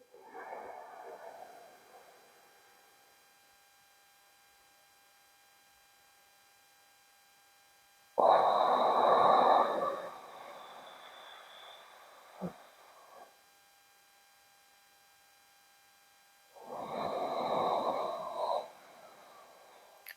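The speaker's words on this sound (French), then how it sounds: "Et encore 10 respirations comme ceci." Slow rhythmic breathing exercise with paced inhales and exhales, seated on a chair or standing, giving two long breathy swells separated by about eight seconds of near silence over a faint steady hum.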